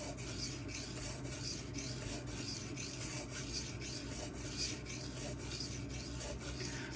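A knife blade is sharpened on a Suehiro Debado 600 grit whetstone with slurry, producing steady, quiet, rhythmic gritty scraping strokes with no talk.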